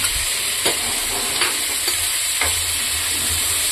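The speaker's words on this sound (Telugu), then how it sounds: "బాగా ఫ్రై అయ్యేటట్టు దీన్ని ఫ్రై చేసుకోవాలి" Mixed vegetables, cauliflower and green peas among them, stir-fry in a hot pan for vegetable and egg fried rice, with a steady loud sizzle and several stirring scrapes spaced through it, close up and with no voices.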